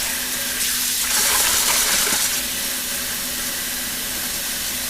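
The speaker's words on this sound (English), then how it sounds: "I don't want the water to run right on the yarn." Tap water runs steadily into a basin while hand-dyed rainbow yarn is being rinsed, a continuous hiss that briefly swells louder in the middle, with no talk.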